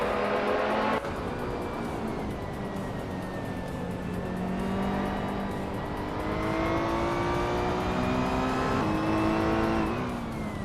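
Race cars launching off the line at a race start at Zolder in a racing video game, with a BMW M3 GT4 among them: a dense, loud roar of several engines revving and climbing in pitch together, steady and continuous throughout.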